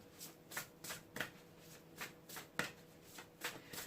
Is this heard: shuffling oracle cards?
yes